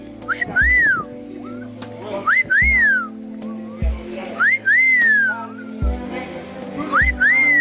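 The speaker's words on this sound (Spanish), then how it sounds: "Chifla, chifla ahí." A person whistles a repeated rising-then-falling call in short bursts, loud and close, with a low hum and a few thumps underneath and brief murmured speech between phrases.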